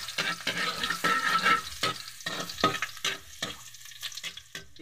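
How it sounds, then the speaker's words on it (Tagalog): Garlic sautéing in oil in a wok, with a steady sizzle broken by repeated scraping stirs of a spatula against the pan, close and fairly loud, no talking. "Mantika sa ating kuwali, magigisa na tayo bawang."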